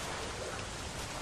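Heavy rain pours in a steady, dense broadband hiss that fills the whole moment evenly, loud and continuous with no voices or breaks.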